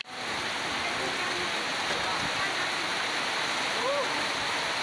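Floodwater after heavy rain pours along streets and into homes in Sumbawa, overflowing from drains that cannot hold the flow; a steady, loud rushing wash fills the whole clip, with faint voices in the background.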